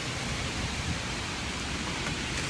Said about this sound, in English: it's raining heavy